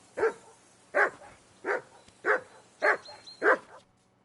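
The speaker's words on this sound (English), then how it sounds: "Call off that damn dog before he wolfs down the last of our meat." Dog barking in the video game Kingdom Come Deliverance II: six sharp, evenly spaced barks at close range, alone with no talk.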